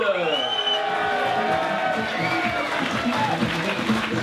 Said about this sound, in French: Je lui demande une ovation pour Margot Lafitte